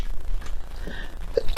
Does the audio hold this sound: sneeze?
yes